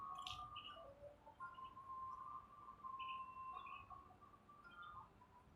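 Birds in Nan Lian Garden at Diamond Hill, several faint chirps and whistled calls repeating over a quiet background.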